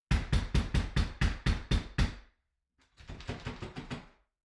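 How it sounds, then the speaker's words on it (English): Loud, rapid knocking on a door, about eight sharp raps, a brief pause, then a second run of quieter, slightly muffled knocks. "The knocking grew louder, then moved to the back door."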